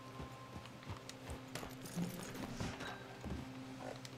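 Hooves of a horse in Red Dead Redemption 2 Online clip-clop in a quick, uneven rhythm, fairly faint, with a few soft creaks of tack mixed in.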